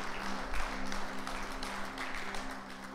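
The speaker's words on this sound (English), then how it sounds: "Why don't we give Ant another round of applause?" Church congregation applauding during a Sunday service at Hamilton Elim, a steady wash of clapping that holds for the whole stretch under a faint low hum.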